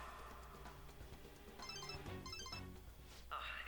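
A ringtone sounds on a phone in Persona 5 Royal, a short melodic chirping pattern that starts midway and repeats in bursts at moderate loudness over a steady background of game music.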